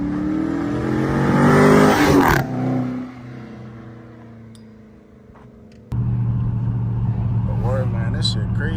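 A car with a new aftermarket exhaust revs hard in a loud, close roar that drops into a low idle with faint burbles. Someone speaks briefly, then the engine returns at a steady rumble.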